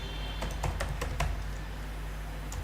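Code being typed on a computer keyboard, with several quick, crisp keystrokes in an irregular run near the start, then sparse taps over a steady background hiss.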